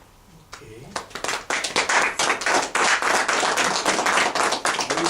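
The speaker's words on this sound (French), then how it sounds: "ça mérite des acclamations" A crowd applauds after a political speech at a party meeting in Paris, with sustained dense clapping rising quickly and holding steady at a moderate level.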